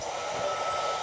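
A passing train in a video game, heard as a steady, loud rumbling wash of rail noise with a broad hiss, continuous for the full second with no voices.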